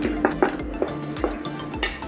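A spoon or whisk knocks against a bowl while cake batter made with baking powder and baking soda is mixed, giving a rhythmic series of close clinks and taps about every half second, with no talking.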